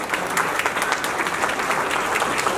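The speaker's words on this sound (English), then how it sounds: "So let's give him a big round of applause." An audience at a Hindu temple's annual day celebration breaks into loud, dense applause, a continuous roar of many hands clapping close by that holds steady to the end.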